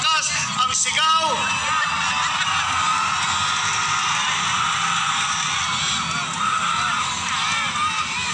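A loud, dense crowd at a political rally in Cebu City roars and shouts continuously, with a few sharp whoops and yells rising near the start before settling into a steady cheering din.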